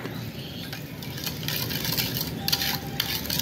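A spoon stirs a thick eggplant and vegetable batter for okoy in a bowl, giving steady wet scraping and sloshing with faint clinks of utensil on the bowl.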